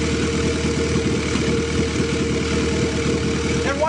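An engine fitted with a GEET system exhaust idles steadily up close, a rough low throb with a regular pulsing rhythm, and a brief rising squeal near the end.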